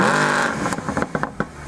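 A Mercedes CLS63 AMG with a 6.2-litre naturally aspirated V8 howls loudly at high revs, then drops off into a burst of sharp crackles and pops as the throttle closes.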